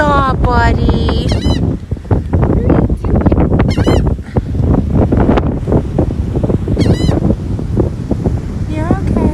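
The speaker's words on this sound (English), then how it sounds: "The seagulls." Seagulls being hand fed on a beach at Stone Harbor, New Jersey, let out repeated loud close squawks and cries over steady wind noise, with people talking between the calls.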